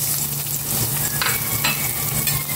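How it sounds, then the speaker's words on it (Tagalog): Garlic and onion sauté loudly in a pan with a dense, continuous close sizzle and a few brief stirring scrapes on top. "ko na tong bawang. Gisa ko na itong sibuyas."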